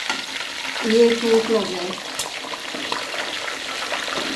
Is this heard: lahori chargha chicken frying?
yes